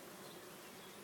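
Gentle carnica honeybees buzzing in a steady, dense drone at an apiary in the Geer valley, as a honey frame is lifted from the hive; faint and continuous with no talk.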